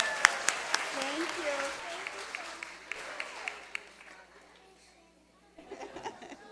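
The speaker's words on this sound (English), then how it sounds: "One more big round of applause for our students from the high school." Audience applause for high school students at a Week of the Young Child event, a burst of clapping that fades out, with a voice speaking over it and a brief second patter of claps near the end.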